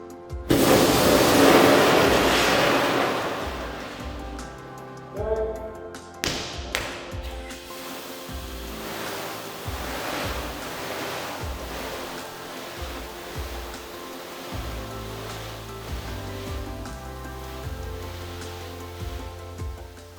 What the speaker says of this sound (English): water will initially knock the fire down, but due to the intense heat, will not be able to control the temperature of the cells